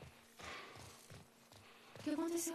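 A horse walks in The Last of Us remake on PS5, its hooves clopping in a slow, even rhythm at moderate distance, joined by a brighter rising tone near the end.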